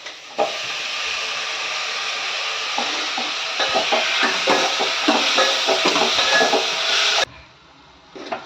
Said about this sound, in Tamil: வெங்காயம் வதங்கிடுச்சு நம்ம வெட்டி வச்சு தக்காளி சேர்த்துக்கலாம்